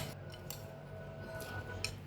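Utensil clinks and scraping in a bowl as a soy sauce and fried shallot mixture is stirred for stuffed tofu, a few light metallic taps spread over a couple of seconds, fairly faint.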